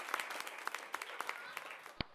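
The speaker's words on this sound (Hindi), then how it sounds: "एक बार अपने लिए तालियां बजा दो यार सारे आप लोग, अपनी मौजूदगी के लिए तालियां" Faint applause from a comedy show audience, scattered distinct claps with a few sharp louder ones over a soft crowd bed.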